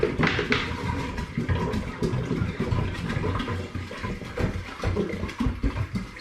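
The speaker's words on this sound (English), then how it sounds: "Now let's get another 5 litres of spring water in." Spring water glugging and splashing as about five litres is poured into a container for apple cider, a continuous close, loud gurgling pour with no talking.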